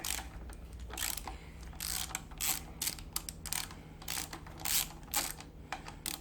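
A ratchet works loose the bolts on a Suzuki GSXR750 steering head in a workshop, giving bursts of rapid metallic clicking in short strokes separated by brief pauses, close and fairly quiet.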